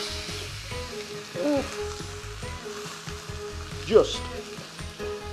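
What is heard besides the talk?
beef rib searing in a red hot pan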